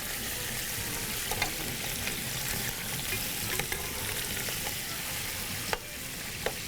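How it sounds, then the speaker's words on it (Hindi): Chicken frying in a pan, a soft continuous sizzle with occasional faint clicks and scrapes of stirring, fairly quiet and steady throughout, with no voices. "चिकन को ज़रा फ्राई होने देते हैं"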